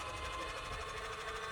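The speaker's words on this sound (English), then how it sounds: "It's going to retract the jack." The powered jack on a fire safety trailer retracts with a steady, whirring motor hum, continuous and fairly quiet, with no change across the short stretch.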